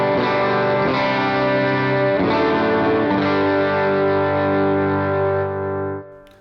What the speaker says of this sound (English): So it's an always on stage 1 type drive.